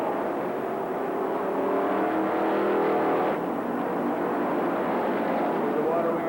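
Race cars roar around the oval at Rockford Speedway during a bracket nationals event, engines droning continuously at a distance with one car passing through, while an announcer talks over the noise.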